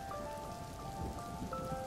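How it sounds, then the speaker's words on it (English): Rain falls outside in a steady soft patter, a faint continuous wash of drops with a few thin tonal tones ringing through the background. "I wasn't surprised that I heard nothing but the rain outside"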